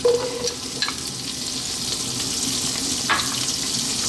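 Chopped celery and onion dropped into hot butter and olive oil in a soup pot, giving a loud, even sizzle throughout with a couple of brief clinks near the start and no speech.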